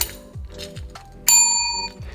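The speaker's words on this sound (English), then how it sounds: "they'll ring this bell to indicate that they've got onto the challenge" A bright classroom bell rings once with a clear, sustained metallic tone that lingers and fades, with soft musical sounds playing quietly underneath.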